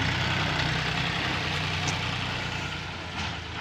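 A tractor engine idles close by with a steady, continuous low rumble and hum. The sound stays loud and even throughout, with no one speaking.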